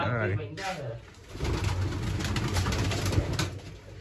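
A very old pigeon, about twelve years old, coos in low, throaty rolls close by, with people talking over and around it.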